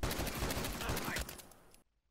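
Rapid gunfire in The Last of Us Factions on the Bill's Town map, a dense burst of repeated shots that thins out and cuts to silence near the end.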